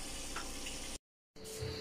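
Chebureki and French fries frying in a pan on a home stove, giving a steady close sizzle and crackle that cuts out briefly before resuming.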